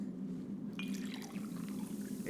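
Liquid pours into a cup at a bar in Mass Effect Legendary Edition, a short burst of splashing and dripping game sound over a steady low hum.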